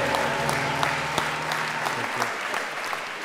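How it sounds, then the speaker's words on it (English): Congregation at a Sunday morning mass applauds after a birthday song, a fairly dense clapping wash with scattered sharper claps that thins toward the end, while a voice speaks briefly over it. "Give them a big round of applause."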